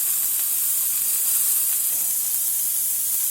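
Onions frying in a pan for a New York chopped cheese sandwich, giving a steady, even sizzle and hiss that runs unbroken, close and fairly loud, with no talk.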